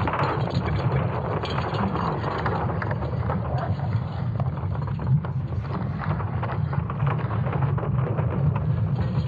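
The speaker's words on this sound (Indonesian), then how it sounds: "Ini sebenarnya adalah suara medan magnet bumi sendiri." Earth's magnetic field, sonified from ESA Swarm satellite data, sounds like a loud, continuous rumbling roar with gusty, creaking textures that holds steady throughout.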